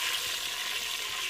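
A steady, bright hiss of oil sizzling in a pan while cooking village-style sarson ka saag, continuous and close with no other sounds.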